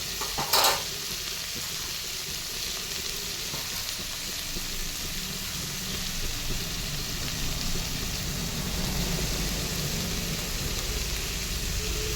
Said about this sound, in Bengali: এরপরে দিয়ে দিব বাকি সবজিগুলো, গাজর আর মটরশুঁটি। হালকা নাড়াচাড়া করে নিব।